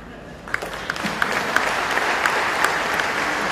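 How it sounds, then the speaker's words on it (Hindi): Sparse applause from an audience at a market analyst awards ceremony, a thin, steady patter of scattered clapping in a large room, moderately loud, with a few sharper individual claps standing out. "मैं देख रहा हूं मुश्किल से तालियां बज रही हैं"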